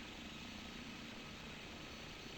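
A helicopter hovers over a city in a flight simulator game, its steady rotor and engine drone filling the scene continuously at a low, even level with no talk.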